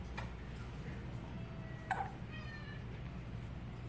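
A cat gives a few faint, short meows over a steady low background hum, with a brief louder sound near the middle.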